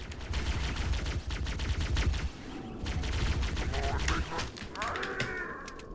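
Rapid bursts of gunfire from the Halo CE beta video game as enemies are killed, dense crackling shots running almost continuously and ending in a brief swooping effect.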